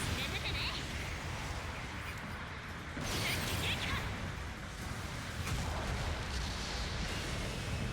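Explosions in the mecha video game Gundam Battle Operation Code Fairy: heavy, booming blasts and rumbling roar fill the mix continuously, with a sharper burst of impact near the middle.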